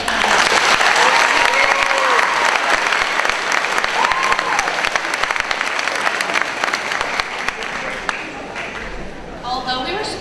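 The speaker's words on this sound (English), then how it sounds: "Let's have one more round of applause for that." A large audience at a high school class day ceremony bursts into loud, sustained applause that gradually thins out toward the end.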